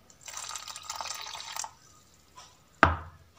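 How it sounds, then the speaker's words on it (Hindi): Water is poured into jalebi batter in a home kitchen, a splashing, trickling pour lasting about a second and a half, followed by a soft splash and a sharp clink near the end. "एक कप पे हमने पानी लिया है और वो भी साथ साथ हम डालेंगे"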